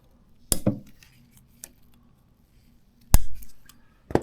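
Scissors snip off the excess ends of ties during a ProCycle IMS 3.6 gallon fuel tank install on a TW200 motorcycle, giving several sharp, close metallic cuts spaced irregularly, with quiet handling noise between.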